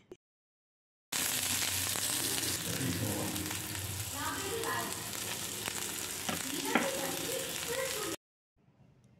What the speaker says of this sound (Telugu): ఉల్లిపాయ ముక్కలు, పచ్చిమిర్చి ముక్కలు వేగిన తర్వాత కరివేపాకు కొద్దిగా వేసుకొని వేపుకోవాలి.